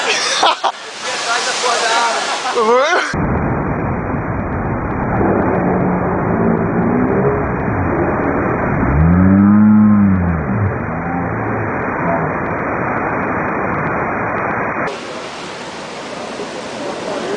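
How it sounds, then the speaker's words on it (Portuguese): Heavy storm-surge waves crash and roar on Icaraí beach at night, a loud continuous wash of surf close by, with voices talking and exclaiming over it. "Aqui nunca estourou uma onda maior que a da calçada."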